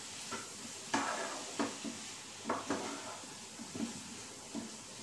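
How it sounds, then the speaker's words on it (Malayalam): Spoon stirring tomatoes into sautéed onions in a pan for egg biryani, with scattered scraping and clinking knocks over a soft sizzle, fairly quiet and close. "ആദ്യം നന്നായി ഇളക്കി യോജിപ്പിച്ചതിന് ശേഷം ഒന്ന് അടച്ചു വെക്കണം"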